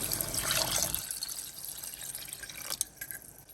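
Water trickles and drips steadily at close range into a pressure cooker pot for biryani, a thin liquid stream with a louder pouring burst at the start, then quieter dribbling.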